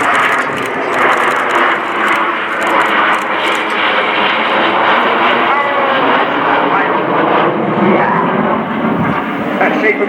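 RAF Red Arrows jets in an aerial display at RIAT, nine aircraft flying inverted in formation: a loud, continuous engine roar throughout, with a commentator talking over it.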